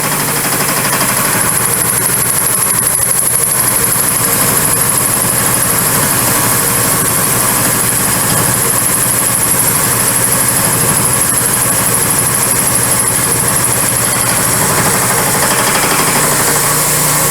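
Power tool cutting a dovetail pass while restoring an old rescued tool, running as a loud, steady machine drone with a high whine for the whole stretch, close and unbroken, with no talking.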